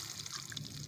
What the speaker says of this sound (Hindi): अब हम इसमें 2 से 3 गिलास जो है पानी ऐड कर देंगे